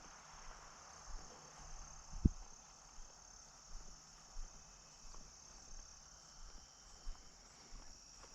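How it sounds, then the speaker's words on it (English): Soft, steady insect chirring, like crickets, runs through a quiet outdoor scene, with one sharp brief knock partway through. "There's some crickets."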